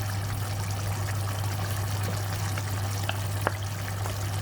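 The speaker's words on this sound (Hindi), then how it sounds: "अब हमने इसको मसाले के साथ अच्छी तरह भूनना है" Chicken liver fries in a pan with salt and green chilies, giving a soft, continuous sizzle with scattered small pops over a low steady hum.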